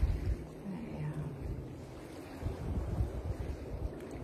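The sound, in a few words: water lapping and wind at Lacanau Océan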